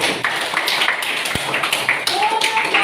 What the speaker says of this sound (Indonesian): Kasih dulu tepuk tangan paling semangat kelompok ini